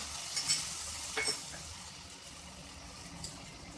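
Fried rice with carrots and soy sauce stirred in a hot pan, a faint steady sizzle with a few quick spatula scrapes early on, quiet and close.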